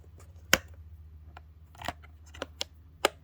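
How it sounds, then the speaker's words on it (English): A plastic snap clasp on a Sooyee bead organizer clicks shut several times, giving sharp isolated clicks close up over a quiet background hum with no voices. "the snap, it's not the strongest snap, but it does close it. It doesn't open or anything like that. And there's a nice little bit of a click."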